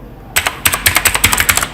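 Rapid typing on a computer keyboard while entering JavaScript code, a close, crisp series of about a dozen key clicks in quick uneven rhythm, no speech.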